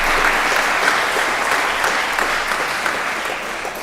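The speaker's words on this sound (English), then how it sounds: "Can we also applaud our youth volunteers" Congregation applauding youth volunteers during a church service, steady dense clapping from a large room that holds for several seconds and tapers slightly at the end.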